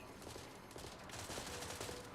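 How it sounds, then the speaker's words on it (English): Faint, distant gunfire in The Outer Worlds 2, a low crackle of repeated shots sitting under a steady background rumble. "Who are they shooting at?"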